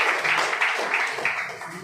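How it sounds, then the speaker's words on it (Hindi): Applause from a gathered audience honoring Rinki Madam and Rakesh Sir at a local event in Mallepur, steady and moderately faint, a continuous patter of many hands. "रिंकी मैडम राकेश सर के लिए सबसे पहले जोरदार ताली होना चाहिए"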